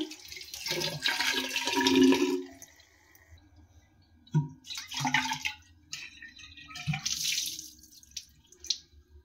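Water splashes and swishes in bursts as a flask is rinsed, with several separate pours separated by short quiet gaps, close up.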